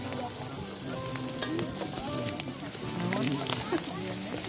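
Gehu, stuffed tofu fritters, sizzle and crackle steadily in hot oil at a mountain campsite, a dense close frying hiss running throughout with occasional stirring while people talk nearby.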